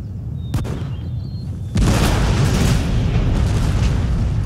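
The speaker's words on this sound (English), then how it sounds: "Keep up the pressure by firing your cannons at the enemy." Cannons fire in a Napoleon Total War battle, a sharp boom early followed by a sustained loud rumbling barrage of overlapping blasts.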